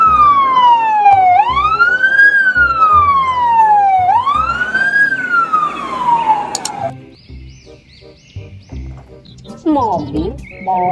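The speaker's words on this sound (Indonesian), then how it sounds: "Mobil truk pemadam kebakaran." A toy fire truck siren wails in smooth rising and falling sweeps for about seven seconds, loud and close, then cuts out, leaving softer clatter and a brief high chirp near the end, with no talk over it.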